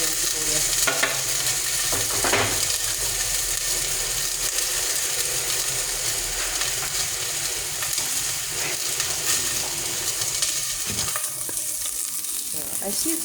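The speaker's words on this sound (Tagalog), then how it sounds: "Lagay natin yung sibuyas at bawang." Onion and garlic sizzle and fry in a pan, a steady crackling hiss with occasional scraping stirs, close and continuous without talk.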